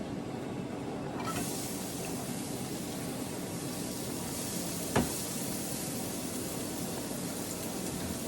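Onions sizzle in olive oil in a hot skillet with a steady, even hiss throughout, broken once by a single sharp click.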